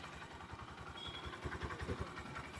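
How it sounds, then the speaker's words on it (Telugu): A Honda CD110 Dream Deluxe motorcycle, a BS6 Phase 2 model, idles with a soft, steady low exhaust thump that pulses evenly and stays faint throughout. "ఇప్పుడు ఎగ్జాస్ట్ నోట్ అయితే ఒకసారి వినండి"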